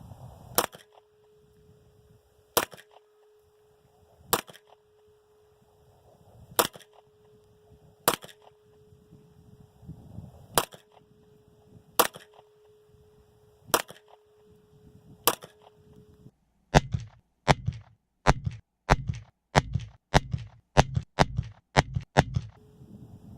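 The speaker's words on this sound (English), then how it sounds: "It's been a while since I've shot this gun" An FN FNP-9 9mm pistol fires at an outdoor range, eight sharp single shots spaced a couple of seconds apart, then a rapid string of about a dozen quick shots, loud and close with no talking.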